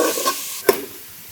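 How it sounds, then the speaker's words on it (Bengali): A tempering of dried chilli and garlic paste sizzles steadily in hot oil for a Bengali chalta pickle, with a single sharp clink of a utensil partway through; no voices. "চালতে ছেঁচা শেষ, এখন বাগার দিয়ে নিব।"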